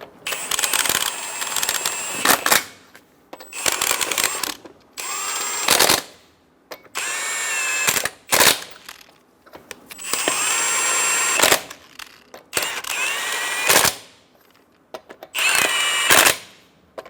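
A cordless impact tool snugs down lug nuts on a 2014-2018 Chevrolet Silverado 1500 wheel, firing in about eight loud, close bursts of whirring and rattling hammering, each a second or two long and separated by brief pauses.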